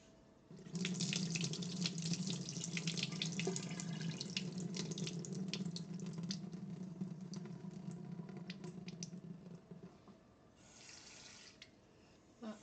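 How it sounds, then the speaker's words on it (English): Food being rinsed under a running kitchen tap in a sink to wash out excess salt, a steady close splashing stream for about nine seconds with small clatters, then it stops and a short trickle follows. "And I'm gonna rinse it one more time, try to get out the excess salt out of it."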